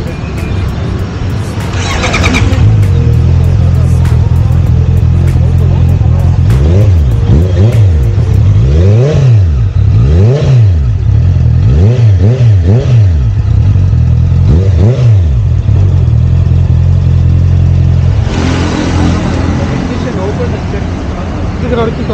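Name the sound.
inline four motorcycle exhaust revving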